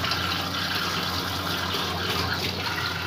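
Steady tap water pouring and splashing while dishes are washed at a home sink, a continuous close rush with no talking.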